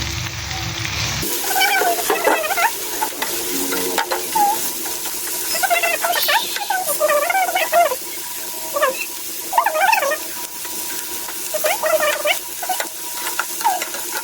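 Bitter gourd (ampalaya) sizzles and crackles as it is stir-fried with sautéed tomatoes in a pan, with a steady frying hiss, scraping stirs and voices talking over it.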